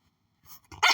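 A pet dog gives a short sharp bark after near silence, a couple of brief close yelps building to one louder final bark.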